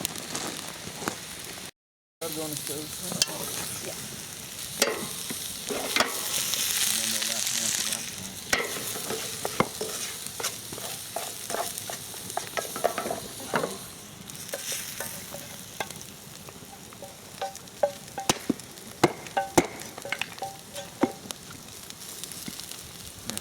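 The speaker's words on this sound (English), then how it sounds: "Black trumpets. That's already been cooked and sauteed, so really it's just heating up." Black trumpet mushrooms, already sautéed, sizzle steadily while being reheated in a pan at an outdoor bushcraft camp, with occasional stirring scrapes and crackles throughout; no talking.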